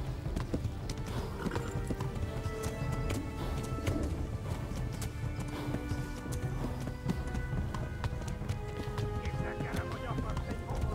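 Horse hooves gallop at a steady, rapid clip-clop in the video game Kingdom Come: Deliverance, continuous throughout under game ambience, with a voice speaking at times.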